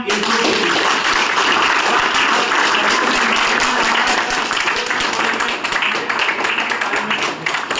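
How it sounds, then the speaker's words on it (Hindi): Loud, sustained applause from an audience at a closing ceremony for a play staged by rehabilitation patients, dense clapping filling the whole stretch with a faint voice or two underneath. "ये एक जोरदार तालियां"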